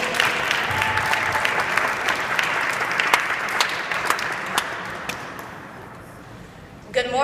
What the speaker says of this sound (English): So please give Miss Bailey Perkins a round of applause